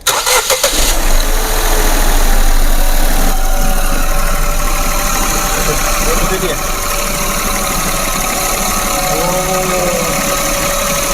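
A 1000 cc three-cylinder turbo Nissan Magnite cranks and catches, then settles into a steady close idle with a faint ticking knock running beneath it.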